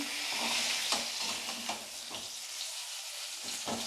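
Vegetables for a papaya and hilsa fish curry fry in oil in a karahi, with a steady close sizzle and occasional stirring scrapes and clinks throughout, no voices.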